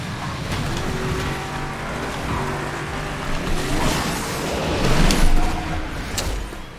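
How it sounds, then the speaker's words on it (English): Car racing through heavy traffic in Asphalt 9 Legends on Nintendo Switch, a Chevrolet Corvette Grand Sport, with steady engine roar and rushing road noise that swells louder near the end, no talk. "Literally too much traffic here for me to even move."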